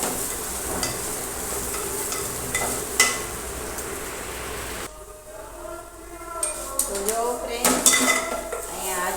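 Mango seed mukhvas roasts in a pan over a very low flame. A spoon scrapes and clinks against the metal in irregular strokes over a soft sizzle.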